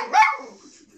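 A single sharp, close dog bark while the dog wrestles with a stuffed toy, followed by a soft trailing whine.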